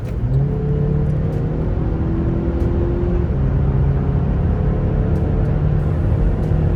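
A 2021 Cadillac XT4 350T crossover speeds up to highway pace, a steady engine drone and tyre roar building over road noise throughout, with no talking.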